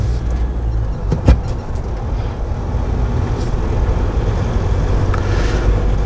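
A car driven during a driving lesson, with an engine drone and road rumble rising steadily from inside the cabin after a brief knock.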